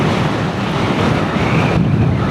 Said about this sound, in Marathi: खाली हवा पण जाम चालू आहे